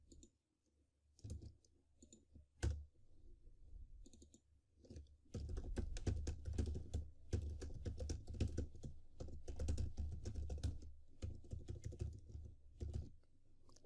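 Someone types on a computer keyboard while entering PHP and MySQL code. After a few sparse isolated keystrokes comes a fast, steady run of close clicking keys, quiet overall, with no voices.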